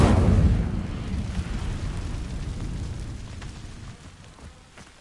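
A fire spell cast in the Hogwarts Legacy game: a loud fiery whoosh-boom bursts at the start, then rumbles and crackles as it slowly fades over several seconds, with no voices.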